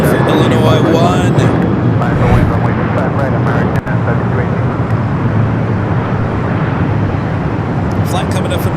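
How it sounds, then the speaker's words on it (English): A Boeing 737-800 arriving from Tucson, Arizona lands at LAX, a loud continuous jet engine roar over heavy background noise, with a voice talking over it. "Flight coming up from Tucson, Arizona, the 737-800"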